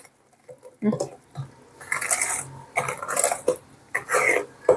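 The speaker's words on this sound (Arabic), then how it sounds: "نخلط كتير منيح لكل المقادير يتداخلوا مع بعضهم" Spoon stirring eggless chocolate cake batter for a microwave cake in a bowl, giving several bursts of scraping, clinking strokes at close range, with short pauses between.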